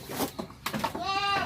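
Goats on a breeding farm bleat nearby, with rough, throaty calls at the start and then a clear, wavering, drawn-out bleat at the end; no speech.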